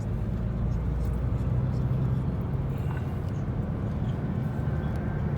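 A 2016 Opel Insignia Cosmo driving on the road, with a steady low rumble of engine and tyre noise inside the cabin that stays even and continuous throughout.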